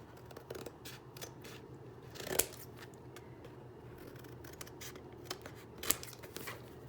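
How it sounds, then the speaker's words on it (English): Scissors trim the edges off paper for a handmade trifold folio. A few quiet snips and rustles lead to two crisp, distinct cuts against a faint background hush. "Just cut off our edges."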